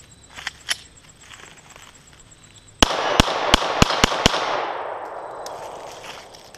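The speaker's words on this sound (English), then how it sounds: "I just want to shoot the rounds." A Glock 43 9mm pistol fires six loud, sharp shots in quick succession at close range, and a long echoing decay follows. Quiet background noises come before the first shot.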